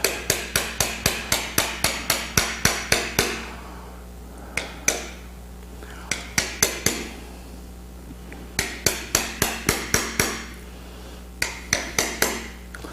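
Mallet strikes knocking away excess material: sharp, close, evenly paced taps in quick runs of about ten, then pauses, then further bursts of blows, with no voices.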